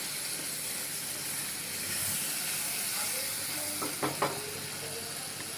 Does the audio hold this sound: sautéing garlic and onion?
yes